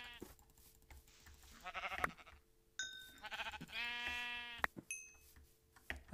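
Several sheep in a video game bleat in short, wavering cries, one after another at varying loudness, over a faint steady background hum.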